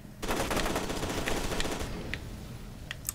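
Automatic gunfire in F.E.A.R. 2: Project Origin: a loud, sustained burst rattles for nearly two seconds, then tails off into a few scattered, sharper single shots and clicks.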